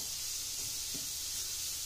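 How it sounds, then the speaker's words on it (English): Sliced leeks sautéing in a pan give off a steady, bright sizzle, with a couple of soft stirring scrapes near the middle. "I do not want this to brown. I just want it to saute it."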